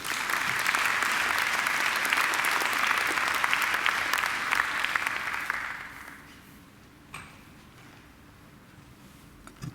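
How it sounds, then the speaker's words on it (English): Audience applause fills a university graduation ceremony at Macquarie University, loud and sustained for about six seconds before fading to quiet room tone with a couple of stray claps. "I think Luke deserves another great round of applause."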